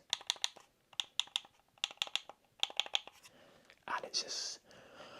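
Game controller D-pad pressed in quick bursts of three or four crisp plastic clicks, close and distinct, repeating in a steady rhythm before a brief softer rustle of handling at the end.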